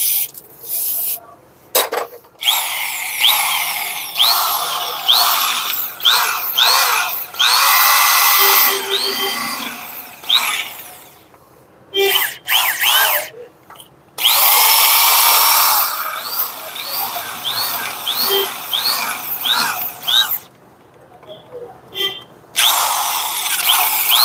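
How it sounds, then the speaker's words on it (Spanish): A power drill with a 3/8 bit bores out a broken wheel stud from a Spicer axle hub. It gives repeated loud, screeching, grinding bursts separated by short pauses and faint clicks. "Vamos a perforar con broca de 3/8."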